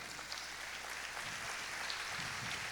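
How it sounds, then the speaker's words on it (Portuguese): A church congregation claps together in sustained, dense applause that stays steady and fairly faint throughout, like a soft wash of many hands. "si le vas a dar este aplauso a Jesús"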